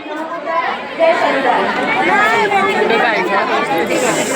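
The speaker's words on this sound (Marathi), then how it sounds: "चैत्य गर्दी वाढत जाते आहे" A large crowd gathered at Chaitya Bhoomi in Dadar, Mumbai, on Mahaparinirvan Day, giving a dense, steady babble of many voices with close chatter over it.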